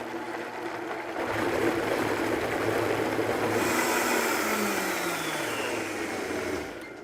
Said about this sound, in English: we're just going to cap our blender and just start blending all the ingredients together until it's well incorporated